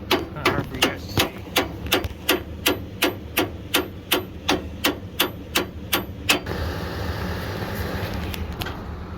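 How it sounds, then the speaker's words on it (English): A hammer taps metal on a Ford in a mechanic's workshop, about sixteen sharp, evenly spaced strikes ringing out close and loud before stopping, leaving a low background hiss. "See the hammer."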